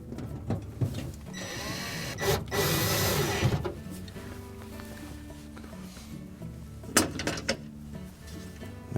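Screws going into refrigerator shelf brackets during a Frigidaire repair, heard as whirring bursts from a powered driver mixed with clicks and clatter from handling the parts nearby.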